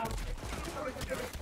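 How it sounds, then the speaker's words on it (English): Rapid bursts of twin gunfire from a weapon in the video game Borderlands 3, a dense, noisy fusillade of overlapping shots over game sounds with faint voices. "Show you the power of the twin gun."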